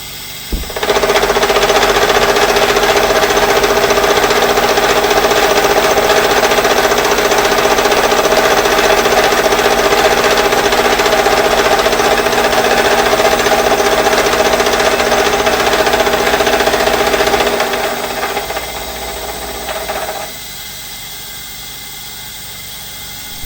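An Edgwick lathe machines a compound gib, giving a loud, continuous whirring and grinding drone with a steady metallic buzz that runs about seventeen seconds and then winds down to a quieter hum.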